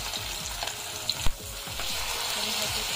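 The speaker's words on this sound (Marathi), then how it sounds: "आता आपण हे फ्राय करायला ठेवूया बघा." Large Shivra fish (freshwater catch from the Konkan) sizzling in a wide tava, a steady dense crackle of hot oil with a few sharper pops, close and alone.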